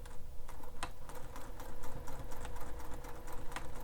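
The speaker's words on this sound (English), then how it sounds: "I'm going to back stitch" Sewing machine fitted with a Teflon foot back stitching through leather on a wallet, a steady fast mechanical clatter of needle strokes running continuously at close range with no talk.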